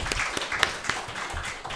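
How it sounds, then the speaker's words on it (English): Applause from a seminar audience, lighter and somewhat distant, a brief patter of clapping hands with a few sharper individual claps standing out. "Please give applause again for"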